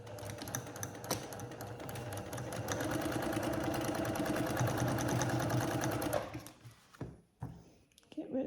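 A sewing machine stitches a paper-pieced quilt block. Its needle hammers in a fast, even rhythm for about six seconds, then stops for a few short restarts. A person speaks quietly over the sewing.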